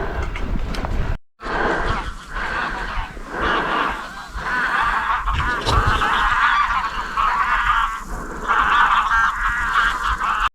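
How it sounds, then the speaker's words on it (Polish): Flock of geese honking by the seaside near Łeba on the Polish Baltic coast, a continuous dense chorus of overlapping calls at moderate distance with a brief pause early on. "Tam jest jakaś postoja ptaków."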